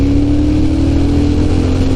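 A Triumph Thruxton motorcycle engine drones steadily while being ridden, a loud, close, even hum with a constant low tone and wind rush and no speech.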